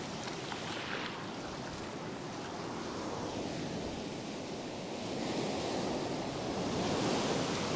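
Ocean surf breaks continuously on a fishing beach with a heavy shore dump, a steady broad wash of waves that swells louder toward the end, with wind noise and no talk.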